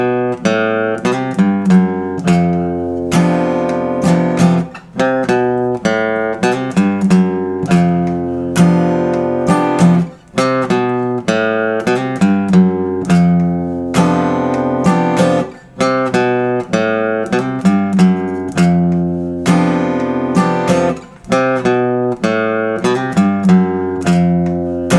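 The guitar solo from a song played at the original recording tempo: a continuous stream of quick picked electric guitar notes with a steady rhythmic pulse and only brief gaps, loud and up close.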